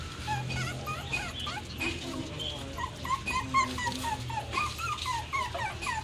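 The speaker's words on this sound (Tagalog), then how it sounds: "Ang dami naman yung aso." Several dogs, a mix of puppies and grown dogs, at home make scattered whimpers and yelps over steady background noise, with some low voices in the room.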